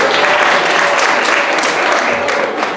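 Children at a Mad Science show applaud a volunteer, a loud, dense burst of many small hands clapping together that holds steady throughout with little letup.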